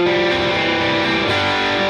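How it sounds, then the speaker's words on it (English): Electric guitar played through a Diana drive distortion pedal on an HX Stomp with a dual-amp preset: a dense, loud, sustained distorted chord ringing steadily with no talking. "I'm going to press foot switch 2 now, which is our distortion pedal, the Diana drive."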